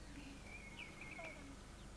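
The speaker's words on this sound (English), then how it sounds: "You can hear a blackbird there." A blackbird sings faintly in a pinetum, thin fluting phrases carrying at a distance over steady outdoor background noise.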